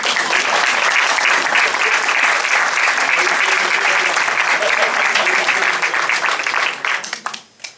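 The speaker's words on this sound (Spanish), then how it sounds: "no me gusta que me aplaudan." An audience at an orchid lecture bursts into sustained, loud applause lasting several seconds, then the clapping thins out and fades near the end.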